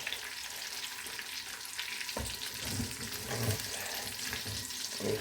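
Lavash flatbread frying in hot oil in a pan while being flipped, made for a prison-style börek; a steady, close sizzle and crackle runs throughout with no talking.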